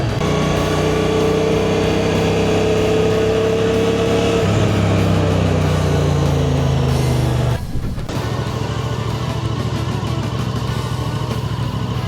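QJ Motor SRV 550 twin-cylinder motorcycle engine running while riding, a steady smooth drone that shifts pitch midway and briefly dips near the end, close and loud with wind noise and no speech.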